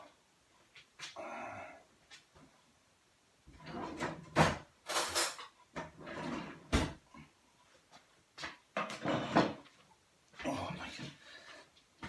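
Clattering and rattling as a kitchen drawer is rummaged through for a butter knife, with scattered bangs and metallic clinks in bursts, a dog whimpering nearby and people talking between the noises.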